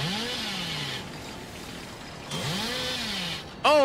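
The Hillbilly's chainsaw in Dead by Daylight revs in two rising, whining bursts with a pause between, fairly faint, followed by a sharp louder burst at the end.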